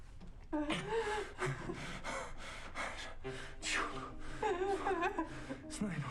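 A woman breathes heavily and shallowly in close, uneven gasps, and the breaths blend with brief voiced whimpers.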